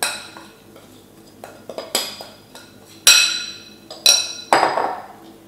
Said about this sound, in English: Put crackers in the bowl, add melted butter and mix together well.